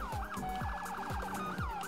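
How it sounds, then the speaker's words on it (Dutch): A police car siren in the Roblox game Emergency Response: Liberty County wails in a fast, repeating electronic yelp, loud and steady throughout, with rhythmic low thumps underneath and no talking. "ik zit gewoon sirenes aan."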